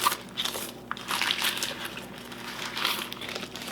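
Plastic crackles and crunches in a steady stream of rustling bursts, like a bag being torn and crumpled up close.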